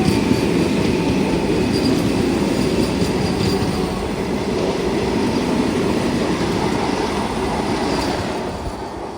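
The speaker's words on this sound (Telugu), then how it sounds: "ఇది కూడా మినీ వందే భారత్ 8 coaches అయితే ఉంటుంది." A mini Vande Bharat train with eight coaches rushes past close by, a loud, steady roar of wheels and rail noise that holds for the whole stretch and eases slightly near the end, with no voices.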